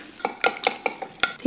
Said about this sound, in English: Now mix it.